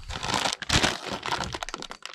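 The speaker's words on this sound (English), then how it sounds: "that was just my cat playing with one of the bags." A cat playing with a plastic bag makes close, irregular crinkling and rustling bursts that continue steadily for a couple of seconds.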